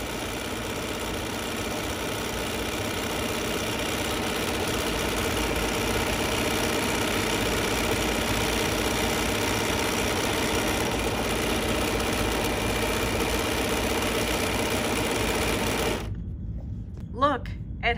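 A Bernina sewing machine runs continuously, stitching couching thread down with a steady mechanical whir that stops near the end, with quiet talk over it.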